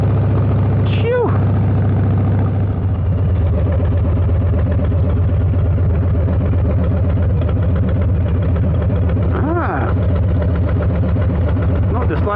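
A 2022 Harley-Davidson Low Rider S with a TBR exhaust idles loud and close in a deep, steady, throbbing rumble, with a brief voice rising over it twice.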